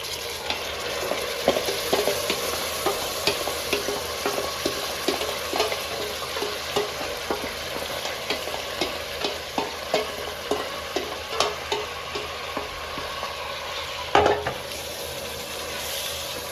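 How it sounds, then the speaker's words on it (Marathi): Marinated mutton sizzles and fries in a pan with onions and spices for a yakhni pulao, with a steady crackling sizzle, frequent stirring scrapes, and a louder clatter near the end. "आपण आता जे मॅरिनेट केलेलं जे मटण आहे ते टाकून द्यायचं आपण."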